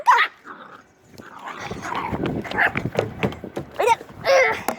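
A pet dog barks and yips in short, close bursts with some whimpering between, while a person talks over it at moderate loudness.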